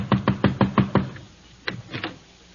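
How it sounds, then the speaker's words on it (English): Knocking on a door in an old Blondie radio comedy with Abbott and Costello: six quick, sharp raps in an even rhythm, a pause, then three more spaced knocks, close and clear with no voices. "Knock on the door."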